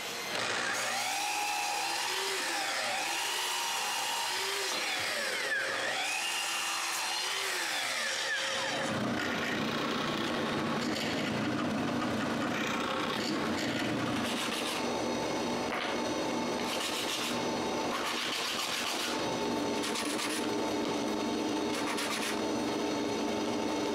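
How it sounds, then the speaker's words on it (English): Coarse sandpaper rubbed by hand over a wooden cremation urn box, a steady scratchy rasp with rhythmic back-and-forth strokes that runs continuously and fairly close throughout. "I fix this with a big piece of sandpaper"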